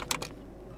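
Computer keyboard keys are struck a few times in quick succession, crisp close clicks while a Linux command is typed, followed by quiet.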